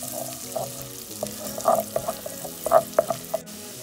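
Ingredients for spicy chicken noodles with mixed veg and potato browning in a hot pan, a steady soft sizzle broken by several sharper spatula clacks and stirring bursts.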